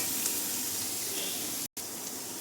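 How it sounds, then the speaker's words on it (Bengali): Egg and mixed vegetables frying together in hot salted oil for homemade egg veg chow, a steady close hiss and crackle that continues without break, with one very short cut in the sound. "সব একসাথে ভাজাভাজি করছি।"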